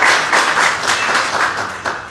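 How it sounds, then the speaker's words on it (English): A crowd applauds sponsors at a business networking members' showcase, dense clapping filling the short stretch at a steady, fairly loud level with no talk over it. "A big round of applause to all our sponsors there."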